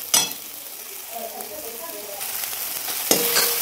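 Sautéing in oil in a pan until the oil separates, a steady soft sizzle with occasional sharper clinks of stirring, close and continuous throughout.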